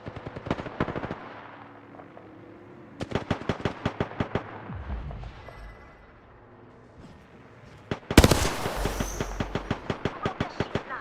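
Loud bursts of rapid automatic gunfire from a squad-based shooter video game, several separate volleys of tightly spaced shots with short pauses between them and a heavier blast near the end.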